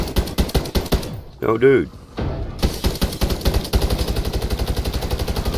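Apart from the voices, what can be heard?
gunfire in video game MWIII Zombies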